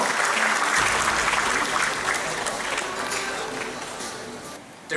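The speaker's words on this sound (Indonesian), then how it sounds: "beri tepuk tangan sekali lagi yang paling meriah untuk Bapak Suyanto" An audience applauds at an award ceremony as Professor Suyanto receives a trophy from Republika, sustained clapping from a crowd that gradually fades over about five seconds.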